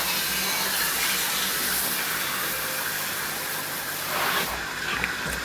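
Water spraying steadily over a freshly washed aluminium motorbike frame during a rinse after cabinet washing, a continuous close hiss with a brief surge near the end and no talking.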